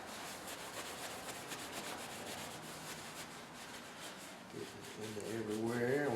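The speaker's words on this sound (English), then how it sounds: "And we're just buffing it." A cloth buffs an oil finish into the wooden handle of a hand-forged cheese knife, making a steady, close, continuous rubbing swish that grows slightly louder at the end, where a faint voice comes in.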